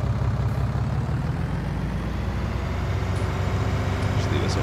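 Tractor in Farming Simulator 19 idling with a steady, loud low engine rumble throughout, a voice talking over it.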